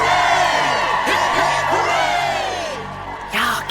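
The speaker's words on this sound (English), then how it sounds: "Everyone, another cheer for the rescue and return of Theo Diggle." Townspeople of Mistra's Glen cheering and whooping together for a rescued townsman, a loud close crowd roar of yells that swells then tapers off near the end.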